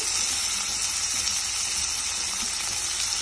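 Tomatoes tipped into a pan of frying onion and ginger-garlic paste for a paneer capsicum curry give a steady, close, bright sizzle that holds evenly throughout with no talking.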